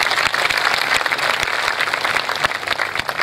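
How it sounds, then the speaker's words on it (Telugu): Audience clapping together during a Telugu religious discourse on the Rama story, a dense, steady wash of applause with sharp individual claps standing out, loud and continuous throughout. "చప్పట్లు కొట్టండి"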